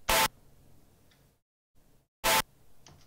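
Short synth accent hits soloed in a music production session: two bright, sharp bursts about two seconds apart, each followed by faint quieter ticks, with near silence between them.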